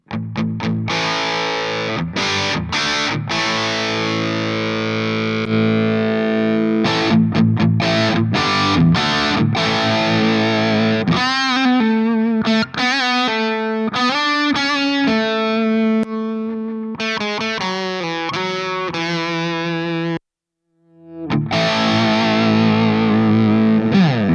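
Heavily distorted electric guitar plays through the gain channel of a Laney Loudpedal using its second loaded IR, with chugging chords and sustained notes, some bent or sliding, ringing out, then a brief silence before playing resumes.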